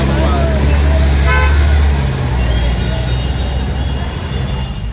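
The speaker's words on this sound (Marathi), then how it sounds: "full traffic jam" Road traffic jam on FC Road during a crowded cricket World Cup win celebration, with vehicle horns tooting repeatedly over a loud wash of engine and crowd noise, and someone talking nearby.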